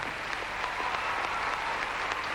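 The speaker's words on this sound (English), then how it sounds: "the crowd loved it. They were clapping to her routine" Steady applause from an arena crowd at the 2000 Pacific Alliance Gymnastics Championships after a women's floor routine, a dense continuous patter of clapping heard alone at moderate distance.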